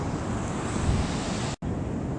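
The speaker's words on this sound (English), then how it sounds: "It's a pretty nice beach, too." Steady broadband wash of surf with wind noise, continuous and fairly loud, with a brief dropout near the end; no voices.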